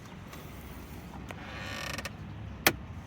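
Intermittent mechanical clicking and creaking from a dashboard air vent in a Fisker Ocean One electric SUV just after startup, a few faint clicks over a quiet cabin hum with one sharper snap near the end.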